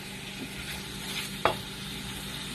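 Tomatoes go into a simmering pot of chicken sinigang, giving a brief soft splash and clink over a steady low bubbling and sizzle, with no one speaking.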